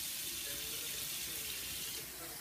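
Warm water runs steadily into a spacious sink while conditioner is rinsed out of hair, making a close, continuous rushing splash that eases slightly near the end, with no voices.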